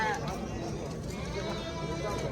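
Male lambs bleat briefly at a livestock market, audible under close conversation between people bargaining.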